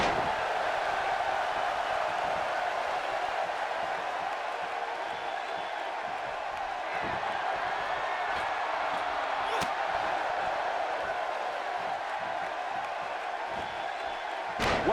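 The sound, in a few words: wrestling arena crowd cheering, Seattle crowd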